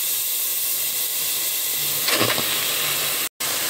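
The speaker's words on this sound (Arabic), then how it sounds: "اول حاجه في حله على النار تكون سخنه، وانزل باللحمه بتاعتي" Meat dropped into a hot pot for okra stew gives a steady loud hiss, swelling into a brief sharper burst of sizzle near the end before cutting out.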